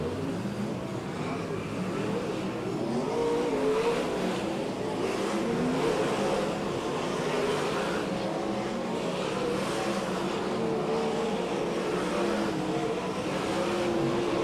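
Dirt-track race cars circle Placerville Speedway during a practice session, a steady loud engine roar that swells and fades as cars pass, without a break for the whole stretch.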